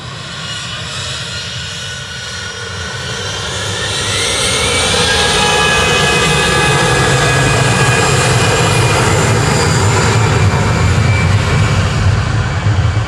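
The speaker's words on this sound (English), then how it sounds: "GZWA departing for EasyJet now with flight 711 to Belfast" An easyJet jet airliner departing Manchester Airport, engine roar building from a distant rumble to a loud, sustained thundering drone with a rising whine as it passes.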